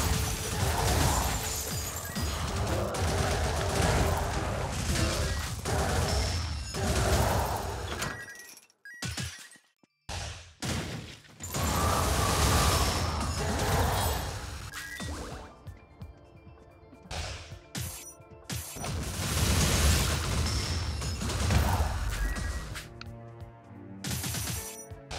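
Energy beam attacks firing in Wizard of Legend, with long roaring bursts of crashing, crackling power that swell and cut off repeatedly, separated by quieter gaps with scattered hits.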